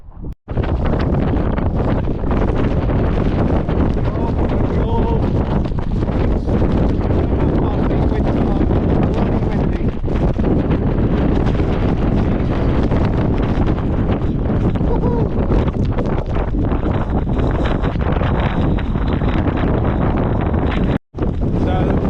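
Strong, continuous wind roars and buffets the microphone on a wet, rocky mountain pass along the old mule track between Ennerdale Bridge and Rosthwaite, loud and unbroken throughout.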